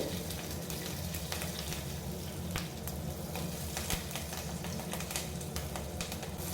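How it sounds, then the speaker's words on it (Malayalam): Cumin seeds fry in hot oil with mustard seeds while a tomato curry is started, giving a dense, even sizzle with faint crackling pops that holds steady and close throughout, with no talking. "ഇനി ഇതിലേക്ക് 1 ടീസ്പൂൺ ജീരകം ഇട്ട് കൊടുക്കുകയാണ്."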